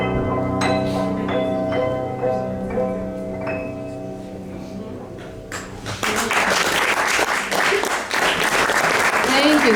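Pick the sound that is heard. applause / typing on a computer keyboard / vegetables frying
applause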